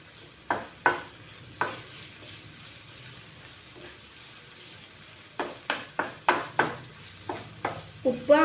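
Chicken masala for a dry-fried thawa chicken being stirred and mashed in a pan, heard as spaced-out metallic taps and scrapes over a low sizzle, becoming quicker and more frequent toward the end.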